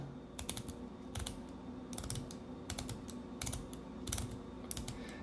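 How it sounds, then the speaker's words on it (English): Stainless steel 48-click bidirectional watch bezel being turned, giving short bursts of crisp, close mechanical clicks in quick runs with brief pauses between, quiet and isolated with no talk. "It is a 48 click bezel. It is bidirectional."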